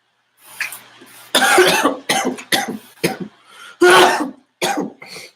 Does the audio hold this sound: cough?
yes